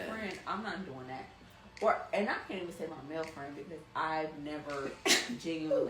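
A single brief sneeze cuts through casual conversation between podcast hosts, with talking going on before and after it.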